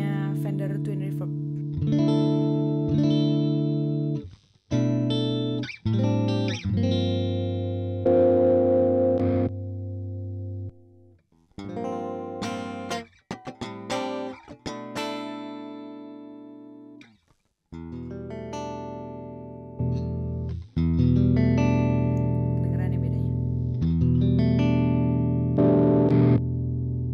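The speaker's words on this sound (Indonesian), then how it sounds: "Nah ini pakai cleannya Fender Twin Reverb." Electric guitar played through a clean Fender Twin Reverb amp simulation on a compact pedalboard, sustained chords and single notes ringing in phrases with short pauses, fairly loud and close, no talking.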